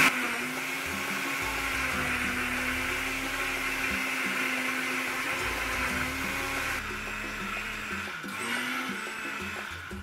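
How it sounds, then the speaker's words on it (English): A countertop blender whirs steadily as it purées chicken broth and salt for caldillo, a loud continuous motor drone with slight pitch shifts from the load before it cuts off near the end. "gonna also add salt, and then gonna blend all of that together"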